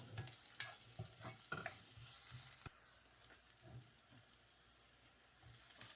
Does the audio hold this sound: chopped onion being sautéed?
yes